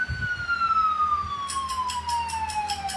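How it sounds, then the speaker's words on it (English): A police car siren wails in a long, slowly falling tone, joined partway through by a rapid pulsing yelp pattern, moderately close and heard over low road rumble. "It's a police car."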